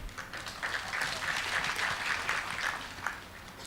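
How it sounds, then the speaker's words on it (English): Audience applause at a university grading celebration, many hands clapping in a lively, slightly uneven patter that rises and holds, heard from within the hall. "I applaud you, and you should applaud yourself."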